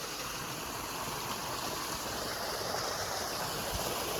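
Steady broadband rush of automatic irrigation water flowing through a date palm farm, a continuous even stream-like wash with no pauses or voices.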